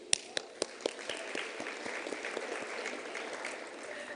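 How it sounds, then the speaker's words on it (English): Audience applause at a live Women in Science Awards ceremony, opening with a few sharp distinct claps and swelling into steady, dense clapping from a crowd that carries on evenly. "A round of applause."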